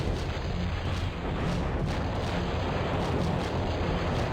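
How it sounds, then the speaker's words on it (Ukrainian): A dense, continuous rumbling roar of repeated booming blasts from cannons in the video game Cossacks, loud and steady with no voices. "То зараз гармати почнуть стріляти."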